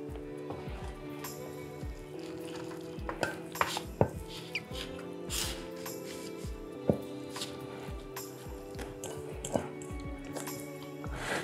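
Cauliflower pizza crust mixture is scraped and pressed onto a baking pan in a home kitchen, with close, scattered clinks, taps and scrapes of utensil against pan, some sharper knocks, and no talking.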